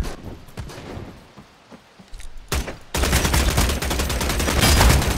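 AK rifle fired in the online vampire battle royale game Bloodhunt: a dense, loud burst of rapid automatic gunfire that begins partway through and runs to the end, with a few scattered single shots before it.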